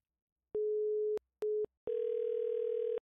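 A telephone line after the far end hangs up: two short steady tones broken by gaps, then one longer continuous tone, clean and close with nothing else around.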